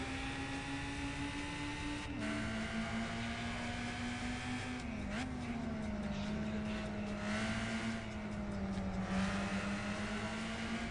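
A rally car engine in Gran Turismo 5 drones steadily while driving in the wet, a constant mid-pitched hum that shifts slightly as the revs change, fairly quiet and unbroken with no talking.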